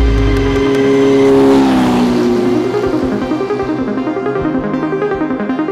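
1978 Kawasaki Z1000 inline four-cylinder 1000cc motorcycle engine revving loudly up close, a rising roar that falls back into a throbbing, pulsing idle.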